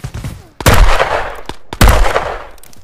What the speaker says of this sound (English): I was being shot from somewhere else